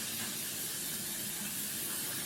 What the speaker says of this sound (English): A little bit of setting spray.